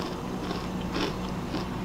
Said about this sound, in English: More like the crunch. I really like the crunch.